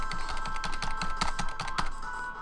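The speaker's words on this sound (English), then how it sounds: "At least I can just keep jamming enter." Enter key on a computer keyboard pressed over and over during video game play, a rapid, steady run of sharp plastic taps at close range with no voices.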